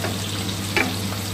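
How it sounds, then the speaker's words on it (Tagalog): Ginger, onion and garlic fry in a pan with a steady, close sizzle and a brief stirring scrape partway through, with no talking. "gusto ko medyo prito-prito natin to"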